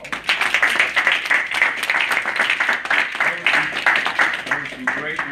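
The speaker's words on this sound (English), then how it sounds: "let's give them a round of applause" Applause from an audience at a leadership speaking event, a steady wash of many hands clapping that runs throughout, with voices and chatter mixed in underneath.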